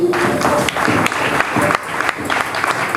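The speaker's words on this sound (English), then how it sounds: "Give him applause, please." An audience applauds a speaker at a lecture on the Vedas, with steady close clapping and a few louder individual claps, while a voice briefly calls out over it.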